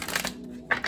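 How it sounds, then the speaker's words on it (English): Tarot cards shuffled by hand for a reading, heard as two quick, close papery riffle bursts separated by a short pause. "Let me give you one more shuffle."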